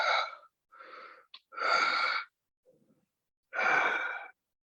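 A human voice imitates a creature's heavy breathing: a few raspy, drawn-out exhales and gasps with short pauses between them, close and fairly loud.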